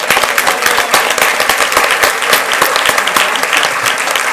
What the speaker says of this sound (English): Let's give this student a round of applause.